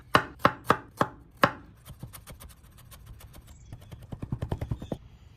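Knife finely mincing ginger on a cutting board, a few loud spaced chops giving way to rapid, lighter rhythmic tapping, then a quickening burst of chops, close and without speech.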